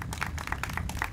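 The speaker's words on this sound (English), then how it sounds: "Give them a round of applause." An audience at an officials' event in Minquadale applauds steadily throughout, a dense, continuous patter of many hands at moderate volume.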